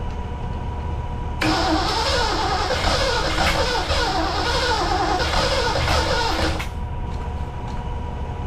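An abandoned 1982 McLaren Mustang, fitted with a known good carburetor after sitting about 30 years, cranks and catches, its engine running loud and rough for several seconds before cutting off, heard close with no talking.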